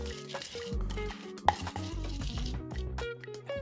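Corn kernels sizzle and hiss in a pan while a utensil stirs them for nachos, with a sharp clink in the middle and music playing underneath.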